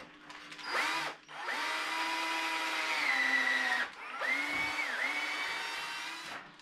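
A handheld power drill bores through wood on a small skiff under construction, with a scrap block clamped behind the hole. Two sustained whining runs, each with a pitch shift as the bit bites, are split by a brief stop.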